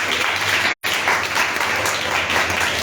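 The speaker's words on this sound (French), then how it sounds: "On acclame le Seigneur pour ça." A church congregation applauds, loud dense clapping from a crowd filling the room, with a brief cut in the middle.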